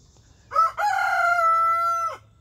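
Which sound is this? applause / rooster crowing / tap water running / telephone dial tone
rooster crowing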